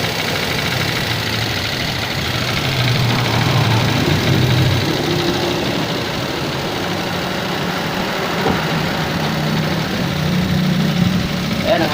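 A payloader engine idles after starting, a steady low rumble running throughout with a faint rough knock, and someone talks over it.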